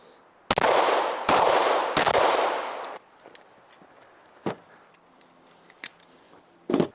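Three loud, sharp 9mm gunshots fire Norma defensive hollow point rounds at a ballistic plate outdoors. The shots come in quick succession, each with a ringing decay, followed by faint clicks and handling noises.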